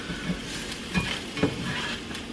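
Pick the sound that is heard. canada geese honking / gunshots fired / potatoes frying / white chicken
potatoes frying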